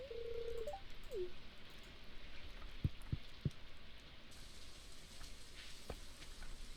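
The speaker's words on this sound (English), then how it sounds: "At least it's raining today" Steady rain falls in the farming game Stardew Valley, a soft, even hiss carrying on throughout, with a few short game tones and blips near the start and brief clicks scattered over it; no one speaks.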